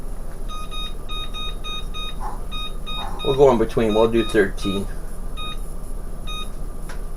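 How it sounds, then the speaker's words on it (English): A kitchen timer beeps in short, evenly spaced pairs of high beeps as it is set, with a person talking briefly in the middle and the beeping carrying on around the speech. "So let's set that timer."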